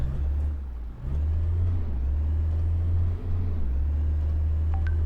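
A steady low engine drone from a Mercedes-Benz Sprinter W906 van in a bus driving simulator game hums throughout, dipping briefly twice as if shifting or easing off, with no talking.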